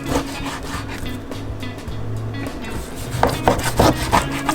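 A knife slices a small chunk of pork loin into thick pork chops, making steady rubbing, sawing strokes that turn into sharper, louder knocks and scrapes toward the end.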